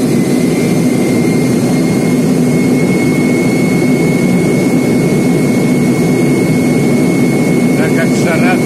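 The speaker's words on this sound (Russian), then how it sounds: "Прогрев двигателей." Loud, steady roar of Ilyushin Il-76 jet engines warming up close by at Beijing airport, a constant deep rumble with a thin high whine held over it.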